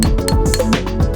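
Steel toe cap of a safety shoe tapped a few times, giving quick bright metallic clinks close up, a short run of ringing taps with no talk.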